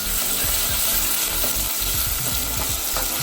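Ginger garlic paste fries in a hot pan for carrot rice, giving a dense, continuous sizzle at close range with occasional faint scrapes of stirring.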